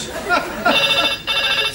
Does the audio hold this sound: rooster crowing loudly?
no